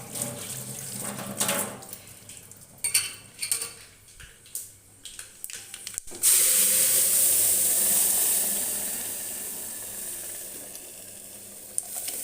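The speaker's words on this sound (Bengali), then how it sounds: "সিদ্ধ করে রাখা ডালটা এবার দিয়ে নেব।" Boiled dal tipped into a pan holding dried chillies, first a run of clattering and scraping, then a sudden loud, steady sizzling hiss that lasts to the end, with no one speaking.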